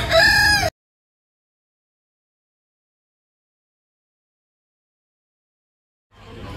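Chickens at an agricultural show give a loud burst of clucking and crowing in the opening moment, then fall silent before a faint rustle returns at the end.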